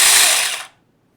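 An electric pruning chainsaw whirs loudly and close for about half a second, then winds down abruptly and cuts to near silence.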